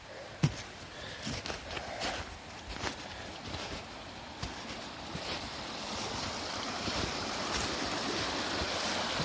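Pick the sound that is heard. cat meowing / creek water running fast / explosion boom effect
creek water running fast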